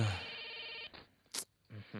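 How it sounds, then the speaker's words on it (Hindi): A phone rings with an electronic trill that repeats in short bursts, broken by gaps and a brief sharp noise. "फोन बज रहा है"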